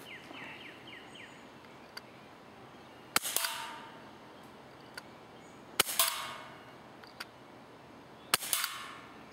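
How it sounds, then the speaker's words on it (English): A KWC M&P 40 CO2 airsoft pistol fired at a target outdoors: three sharp, loud cracks spaced a few seconds apart, each followed by a brief hiss and rattle, with faint ticks and birdsong in between. "we're going to shoot at this target right here"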